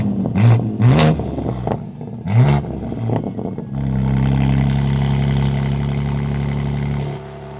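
A BMW G81 M3 Touring with a Miltech exhaust valve controller revs sharply three or four times in quick bursts, then settles into a loud, steady rumbling idle close to the listener.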